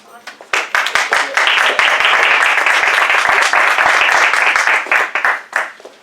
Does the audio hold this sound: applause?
yes